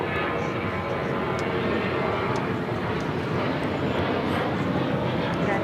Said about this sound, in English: This is the Japan Airlines 777-300ER coming in from Tokyo Haneda, heading to the gates now